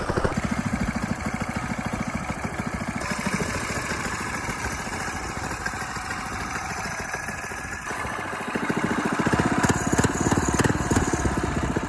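A small single-cylinder mini bike engine shipped from China idles after the choke is turned off to warm up, a steady rapid putter close by that shifts in tone partway through and grows slightly louder near the end.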